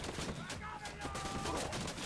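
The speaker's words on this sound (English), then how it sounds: "I'm being shot at." Gunfire in the Ghost Recon Wildlands beta, a dense, continuous clatter of shots mixed with game noise at steady loudness throughout, with a faint voice underneath.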